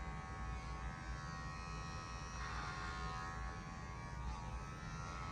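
An electric hair clipper runs clipper-over-comb during a medium faux hawk bald fade, a steady close buzzing drone that holds constant with slight shifts in tone, no talking.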